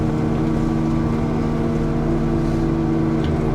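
A Bushmaster 42-inch excavator-mounted mower runs as a loud, steady hydraulic and engine drone, close by and continuous, with no talk over it.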